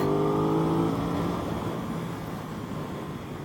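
An Aprilia RS660 sport motorcycle, a 2021 model, pulls hard in third gear on a race track, its engine note rising as a loud, steady drone close to the rider that eases slightly toward the end.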